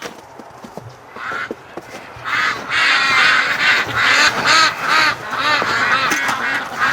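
Breeding ducks crowded in a big group around a shed in spring, panicking from nearby crows, a loud, overlapping chorus of quacks and honks swelling after a quieter start, with no talk.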